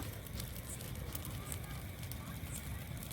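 Close-up roar and crackle of a Bhogi festival bonfire, steady and broadband with no pauses, fills the short stretch on its own.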